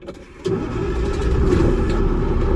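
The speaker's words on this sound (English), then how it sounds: "I'm going to safe start the vehicle" A Class A truck engine cranks and catches, then settles into a steady rumbling idle, close and loud, with no talking.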